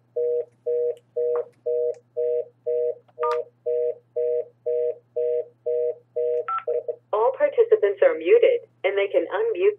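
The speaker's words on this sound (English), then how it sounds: "Stop your phone. Stop your phone." A mobile phone rings during a church sermon, repeating a steady electronic beeping tone about a dozen times in an even rhythm before it gives way to a burst of warbling, melodic ringtone.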